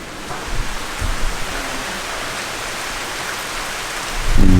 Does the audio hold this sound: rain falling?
yes